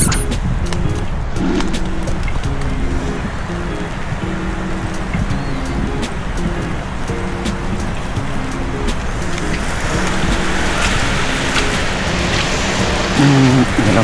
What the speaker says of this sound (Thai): ฝนตกก็จะประมาณนี้แหละ